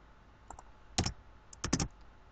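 Keys tapped on a computer keyboard while entering lowercase text in Photoshop: a couple of light isolated clicks, then two short close-up bursts of rapid typing in a quiet room.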